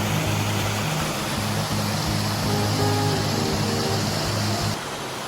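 Pipestem Falls on Pipestem Creek pours in a continuous broadband rush of water, steady and fairly loud, with a low tonal hum layered beneath before the sound drops slightly at the end.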